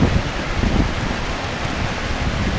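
Rain falls outdoors in a steady, dense hiss, loud and close, with no break and no one speaking.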